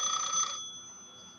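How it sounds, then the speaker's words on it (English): A telephone rings during a live cookout broadcast, a single bright electronic ring burst that cuts off abruptly and leaves a fading room tone, with no talk over it. "Oh, the phone was ringing."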